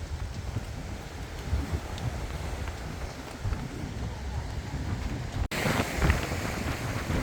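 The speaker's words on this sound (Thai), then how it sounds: "ช่วงนี้ลมแรงขึ้นยิ่งใหญ่" Strong wind buffets the microphone on Ko Si Chang island, a continuous low rumbling roar with gusty swells throughout, and a louder burst after a brief cut near the end.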